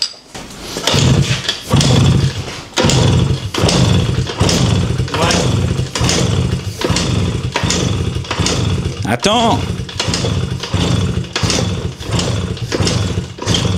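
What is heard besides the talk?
small motorbike engine running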